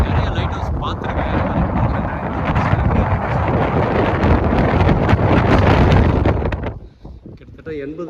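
Strong sea wind at Manapad Beach in Tamil Nadu buffets loudly and continuously while a person talks, then eases off near the end.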